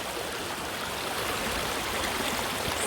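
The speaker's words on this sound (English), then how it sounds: "I'm sitting in the middle of literally a river." Steady broadband rush of a river flowing in a natural park, heard from midstream: continuous, close and moderately loud, with no voices.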